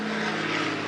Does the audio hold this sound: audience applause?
no